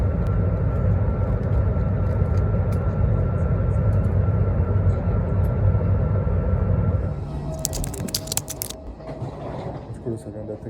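Steady, loud engine roar of an airplane that has just landed, heard from inside the cabin, with a constant drone that drops lower near the end and a brief jangle of clicks.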